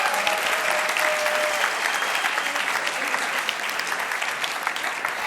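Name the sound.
audience applause for third place winners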